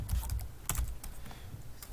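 Code being typed on a computer keyboard: a quick, uneven run of close, crisp key clicks, with a denser cluster of presses near the middle of the burst.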